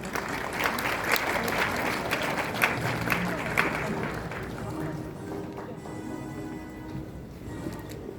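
Steady applause from a large crowd at a university graduation ceremony fills the space, with some chatter mixed in, then gradually fading toward the end.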